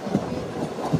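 Heard from inside, a MEMU passenger train runs from Tirupati toward Tiruvannamalai. Its wheels give a steady low rumble with a couple of rhythmic thumps over the rail joints in one short moment.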